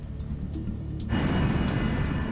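A United States Air Force cargo jet approaching to land, its steady engine roar swelling louder partway through and holding as a continuous broadband rumble with no talk.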